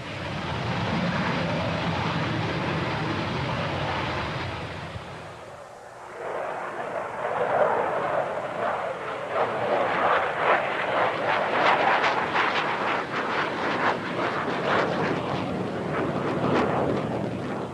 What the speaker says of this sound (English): It is the first flight of the E-155, the prototype of what was to become the MiG-25.